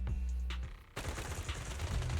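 Gunfire rattles in rapid bursts during a Zenless Zone Zero game, a dense volley of sharp cracks that stops briefly and then resumes even louder and thicker.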